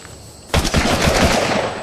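Automatic gunfire in a survival video game, a loud sustained rapid burst that starts abruptly after a brief quiet moment and keeps going to the end.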